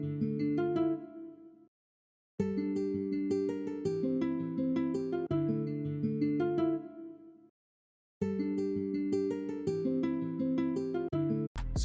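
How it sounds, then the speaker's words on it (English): Classical guitar preset from the Philharmonic instrument library plucking arpeggiated minor chords in clean, ringing phrases separated by short silences, close and clear with no talking. "this classical guitar from Philharmonic, and it's a classical guitar preset."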